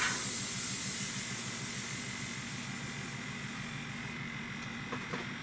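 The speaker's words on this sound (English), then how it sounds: "you guys can hear the pressure come out of this little hose" A steady, close hiss of air escapes continuously from a portable sprayer's small hose, gradually weakening over several seconds, with a faint click near the end.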